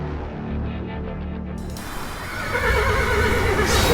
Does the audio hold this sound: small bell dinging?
no